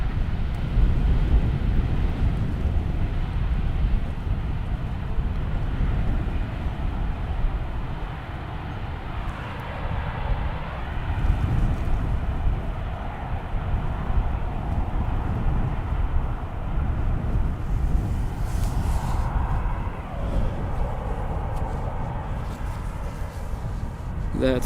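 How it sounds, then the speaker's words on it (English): An Airbus A319 airliner landing on runway 18R at Amsterdam Schiphol, a sustained low engine roar rumbling steadily throughout, heard at a distance from outdoors. "A 319. Cute little Airbus"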